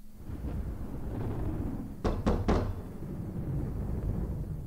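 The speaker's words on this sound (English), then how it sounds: "Loud knock. Don't they have doorbells?" Three loud, quick knocks on a door in the horror visual novel Spirit Hunter: Death Mark, sharp and close over a steady low game ambience.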